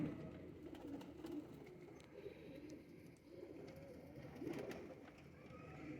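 Soft, low pigeon cooing close by over faint background murmur, with a few light rustles and taps.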